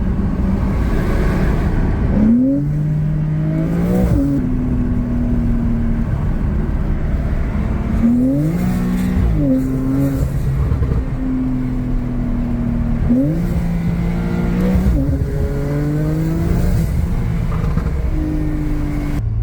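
A car driven in sport mode accelerates hard, its engine note climbing repeatedly and dropping at each gear change, heard steadily from inside the cabin over about twenty seconds.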